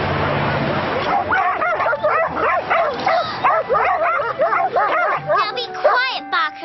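Cartoon dogs bark, yip and whimper in rapid overlapping bursts, loud and close, with some background voices mixed in.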